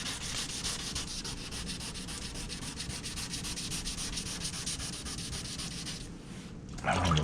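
Steady back-and-forth sanding rasps across an Audi car body panel being prepped for paint, a close, continuous scratchy rubbing with an even stroke rhythm and a brief louder knock at the end.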